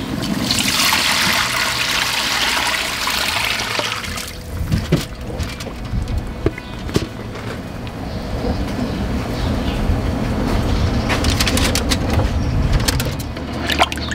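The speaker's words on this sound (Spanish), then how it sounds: "vamos a echarle ahora sí el adobo" Adobo sauce poured into a large pot of beef rib birria, a loud rushing pour at first, then bubbling, sloshing and trickling liquid with scattered clinks close by.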